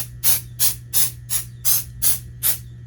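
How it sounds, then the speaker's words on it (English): Seven short, even hissing bursts of aerosol release agent sprayed onto a skull mold and board, spaced about every 0.35 seconds, close and fairly loud over a low steady hum. "we're going to use this, spray it, a couple layers of this on here"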